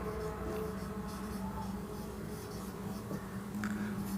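Pen writing on paper during a Hindi-language maths lesson on co-prime numbers, a steady scratchy stroke sound running throughout at close range over a low background hum.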